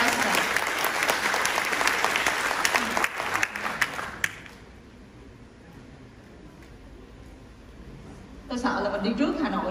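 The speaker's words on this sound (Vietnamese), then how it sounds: "Xin quý vị hãy dành một tràng pháo tay cho Hillside Residence." An audience at a Phu Quoc property launch applauds Hillside Residence, a dense burst of clapping that fades after about four seconds into a quiet room murmur, then another round of clapping starts near the end.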